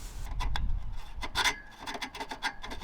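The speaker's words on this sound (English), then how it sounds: "went and got a hacksaw to finish off the rest" A hacksaw works through the metal of an old muffler pipe on a 1978 Dodge D150 pickup, making close, uneven rasping strokes with short pauses between them, alone without speech.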